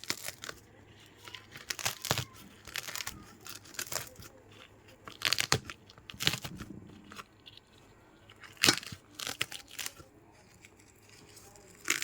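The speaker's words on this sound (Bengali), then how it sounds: "কাঁচা লঙ্কাগুলো বেশ চটকে চটকে এর মধ্যে মেখে নেব।" Green chillies are squeezed and mashed by hand into a peanut mix, with close, irregular crunching, squishing and crinkling bursts against a quiet background.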